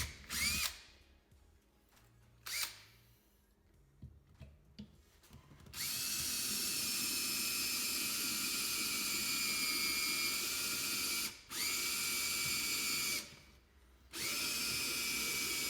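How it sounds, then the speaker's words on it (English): A power drill bores bolt holes into a metal wheel, starting with short taps and handling noises, then a long steady whine that stops briefly twice and starts again, loud and close. "if you use the bigger drill bit first, just to get something started dead center, your smaller drill bit will not wander at all"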